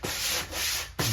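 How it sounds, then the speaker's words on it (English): Light hand sanding over a nearly dry drywall patch: two steady, close scratchy strokes of even loudness with a short break between them, followed by the start of a third stroke. "So we're gonna hit it really quick with light sanding."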